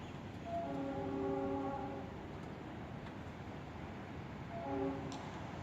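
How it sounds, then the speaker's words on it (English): An unusual, eerie-sounding horn on a Florida East Coast Railway train at Delray Beach sounds a sustained harmonic blast lasting over a second, then a shorter second blast, at moderate distance over steady background rumble. "This freakiest train horn I've ever heard."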